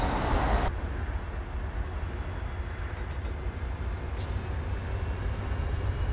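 Locomotive-hauled train in Train Simulator 2016, a steady low rumble of running gear and motors heard throughout, fairly quiet and constant with a few faint higher clicks.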